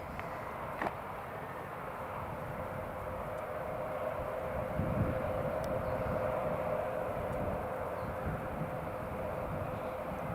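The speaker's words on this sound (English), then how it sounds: "So EasyJet A320 is just on final approach now" An easyJet Airbus A320 on final approach into Newcastle International Airport from Belfast Aldergrove, a steady distant engine rumble and whine holding evenly and swelling slightly midway.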